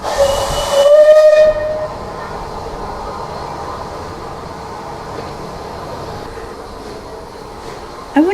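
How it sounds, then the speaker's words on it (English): A steam locomotive whistle blasts loudly for about a second at the Swanage Railway in Dorset, then a steady broad hiss of steam continues, with a brief sharp sound at the very end. "Pulling us today will be the Sir Keith Park engine."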